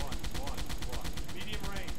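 Rapid, dense, continuous gunfire from a submarine in the Silent Hunter 3 video game, a steady loud rattle of rhythmic shots.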